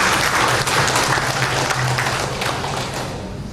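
A hall full of people claps in a thick, continuous roar during an installation ceremony for the PWRI Lampung regional and branch boards, loud and steady before easing slightly at the end.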